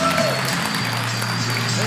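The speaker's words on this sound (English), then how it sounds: "So please give a warm round of applause." An audience at an Angular conference applauds to welcome a speaker in a brief, dense wash of clapping over a steady room hum, with some voices mixed in.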